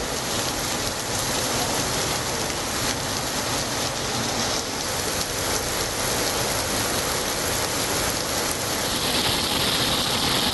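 Heavy summer rain pours steadily over Kallakurichi, Tamil Nadu, a dense, even hiss of downpour that stays loud and unbroken throughout, with no voices.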